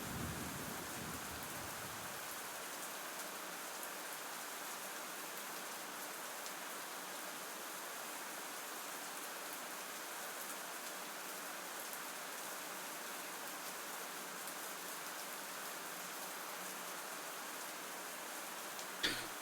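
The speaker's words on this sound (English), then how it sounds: "The rain sounds, they're quite nice." Steady rain falls without a break for about twenty seconds, a dense, even patter of drops hitting a surface, with a small knock right at the end and no voices.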